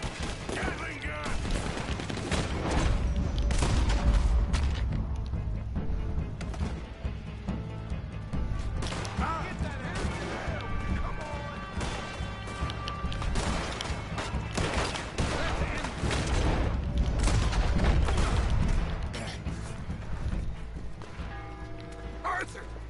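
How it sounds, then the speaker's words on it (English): A Gatling gun fires in the video game Red Dead Redemption 2, with long sustained bursts of rapid gunfire, mechanical clatter and crashes. The shooting stays loud and dense throughout a chaotic fight scene. "Gatling gun!"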